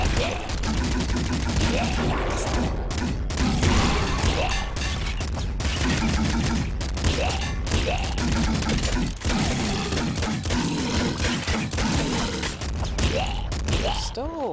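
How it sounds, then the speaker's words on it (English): Rapid gunfire in a chaotic stretch of the video game Nuclear Throne, a dense, continuous barrage of shots and impacts thick with game music and effects, with a voice talking intermittently over it. "I heard that turret though"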